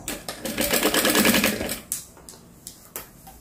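Sewing machine stitching close along the hem edge of a cotton dish towel, a fast continuous whirring run of stitches that stops, followed by a few short separate bursts.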